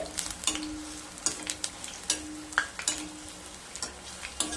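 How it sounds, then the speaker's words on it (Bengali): Hinche leaf pakoras deep-frying in hot oil over a medium flame, with hot oil ladled over them: a steady bubbling sizzle broken by regular soft scraping and splashing bursts from the ladle, close and moderately loud, no voices. "এবার মিডিয়াম স্টিমে ভেজে নিতে হবে একটা হাতা দিয়ে ওপর থেকে গরম তেল দিয়ে দিতে হবে"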